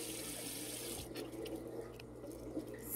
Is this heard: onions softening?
no